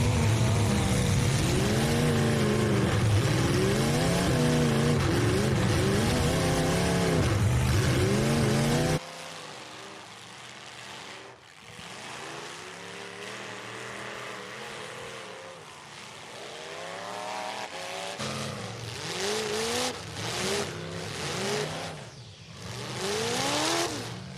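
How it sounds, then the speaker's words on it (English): Demolition derby cars in a pro heat roar and rev loudly and continuously, engines rising and falling with grinding mechanical noise throughout. "He got refired, but that few moments where he was sitting idle allowed XP Derby Parts, Chris Collins and Jared Heaney to do some damage"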